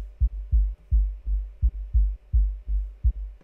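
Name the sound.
sub bass pattern played all on G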